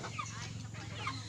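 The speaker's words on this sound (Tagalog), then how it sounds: "Ari po ang aming mga manok na lalaki." Roosters on a pig farm cluck and call in a brief, faint burst close by, with steady low background noise.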